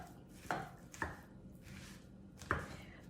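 Ground beef being broken apart and mixed with a Pampered Chef Mix 'N Chop, three sharp, fairly loud clacks of the tool striking a pan at uneven intervals over a low background.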